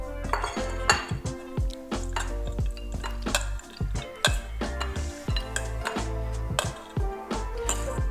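Roasted hazelnuts are tipped and moved into a serving dish, giving repeated close clinks and clatters of nuts and utensils against the dish at an uneven rhythm.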